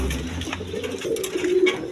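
A pair of Afsan Girijal pigeons coo in low, rolling, throaty tones that run continuously and close by, with a few soft rustles in the background.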